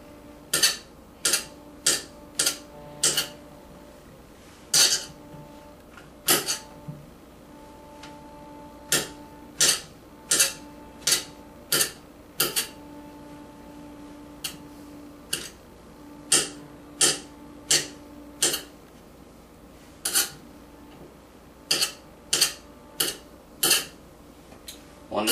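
A knife slicing onions comes through as regular sharp chops on a cutting board, each with a faint ringing tone, repeating steadily throughout at close range.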